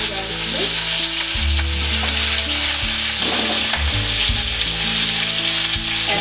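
Spices, ginger and garlic paste sizzle in hot oil alongside fennel seeds and kalonji (onion seeds), a steady, close frying hiss that runs the whole time, with soft tonal music underneath.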